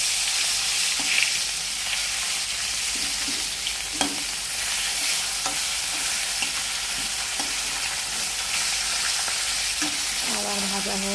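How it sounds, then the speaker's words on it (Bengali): Turned fish pieces frying in hot oil in a karahi, an even, loud crackling sizzle with a few soft stirring knocks and no voices. "আবার ভাজা হোক, তারপরে নামিয়ে নেবো।"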